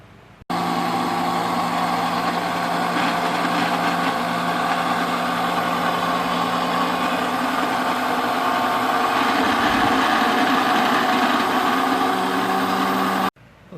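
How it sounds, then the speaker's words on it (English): An electric juicer squeezes oranges with a loud, steady motor drone that starts abruptly, runs continuously for about thirteen seconds close up, then cuts off. "I'm going to do the squeezing through the juicer of the oranges, and because the machine is going to make tremendous noise"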